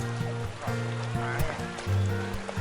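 Shallow, knee-deep sea water sloshing and lapping around someone standing in the sea off a beach at Sattahip, Thailand, with steady close swishing and small splashes, plus a low rumble of wind.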